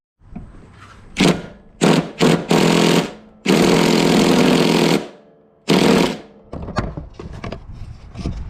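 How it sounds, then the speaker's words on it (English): Impact wrench working on a Toro mower during blade belt repair, loud close bursts of rapid hammering, several short and longer runs with brief pauses and smaller rattles between them. "So I wonder if we can try something like that with impact wrench"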